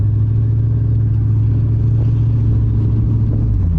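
A Chevrolet Corvette C4 from the 1980s gives a deep, steady engine rumble from inside the car, holding a low, even note with no voices.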